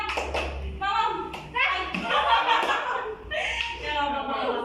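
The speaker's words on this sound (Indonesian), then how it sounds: "Tepuk pagi, tepuk siang, tepuk malam, tepuk pagi, siang, malam" Rhythmic group clapping in a school counseling class, with sharp claps in short bursts mixed with voices chanting along in a call-and-response pattern.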